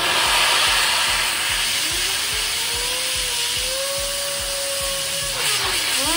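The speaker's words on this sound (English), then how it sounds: "I have a standard air duster" Compressed air from a duster can hisses steadily and loudly up close, blowing across a Montech King95 Pro PC fan, with a faint rising and falling whine of the spinning fan and a rhythmic ticking beneath.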